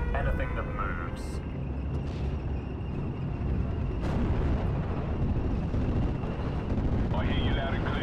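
Artillery fire and explosions in the WWII strategy game Steel Division: Normandy 44, set at Caumont l'Éventé, form a dense, continuous rumble with scattered sharp blasts and a passing aircraft drone, steady and loud throughout.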